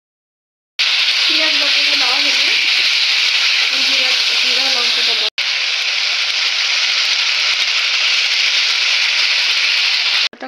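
Chopped onion hits hot oil and bursts into a loud, dense sizzle that holds steady for several seconds, with faint voices and tones in the background early on.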